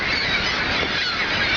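Seagulls calling at their nesting site in a cave at Cave of the Winds in April, a loud, dense, continuous wash of cries that blends with steady broadband roar throughout.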